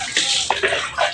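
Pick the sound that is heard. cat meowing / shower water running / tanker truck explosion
shower water running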